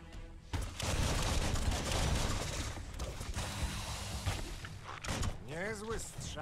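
Gunfire and impact thuds from combat in the video game Biomutant, a dense run of shots and bangs mixed with music and effects, with a voice speaking over the action near the end.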